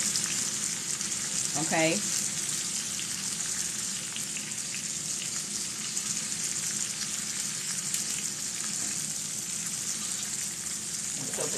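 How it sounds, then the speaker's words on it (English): Pork chops fry in a vintage cast iron pan, a steady, close crackling sizzle that runs unbroken throughout, with a brief spoken word early on. "The pork chops are cooking."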